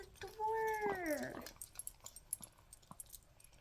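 Pet dogs whimper nearby indoors, with a drawn, wavering whine that rises and falls for about a second, followed by soft rustling and light tapping sounds.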